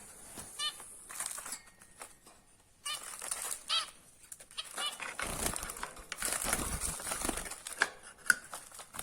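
Bursts of rapid wing flapping from a red-whiskered bulbul come and go amid rustling and faint bird chirps, close by and fairly loud.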